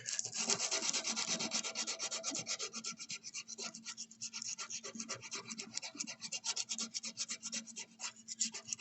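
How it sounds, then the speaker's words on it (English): Rough sandpaper rubs back and forth on wood in quick, steady scratchy strokes, close and fairly quiet. "after I get it down pretty smooth with the rough sandpaper"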